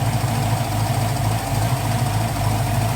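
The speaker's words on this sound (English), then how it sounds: "That means the engine is basically idling off the stop screw." The engine of a 1980 Trans Am fitted with Holley Sniper fuel injection idles near 800 RPM, a steady, loud low rumble with a slight uneven pulse, close by and alone.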